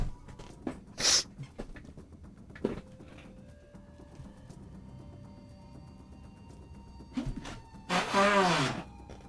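Someone sneezes sharply a couple of times, with a loud, breathy burst near the end, amid quiet room noise and faint background sounds.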